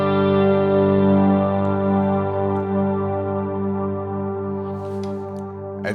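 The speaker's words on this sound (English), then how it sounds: "As you can hear, there's tons of delay and reverb on there." A sustained ambient electric guitar drone, played as a cello-like worship pad, rings out thick with heavy delay and reverb. It swells, then slowly fades, with faint echoing repeats trailing into the end.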